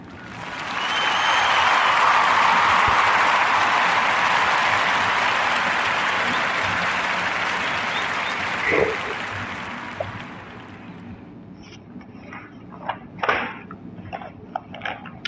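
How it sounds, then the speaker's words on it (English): Audience applause swells quickly and holds loud and dense for several seconds, then thins out into scattered claps and a few voices toward the end. "So join me in giving a warm Narrator Podcast round of applause"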